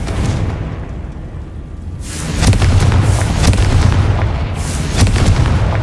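A Confringo fire spell explodes in Hogwarts Legacy, a loud booming blast that swells after a quieter lead-in and rolls on with crackling, sustained rumble to the end.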